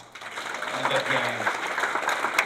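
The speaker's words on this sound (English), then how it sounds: "Give her a round of applause of that." An audience at a mayoral installation ceremony breaks into applause, clapping building quickly and holding steady at moderate loudness, with a voice speaking briefly at the start.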